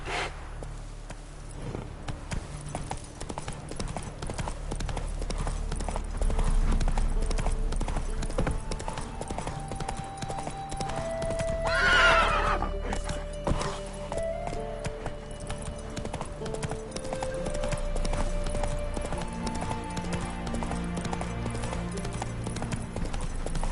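Roach the horse galloping in The Witcher 3 video game, a rapid continuous clip-clop of hooves with a brief whinny midway, under soft game music and ambience.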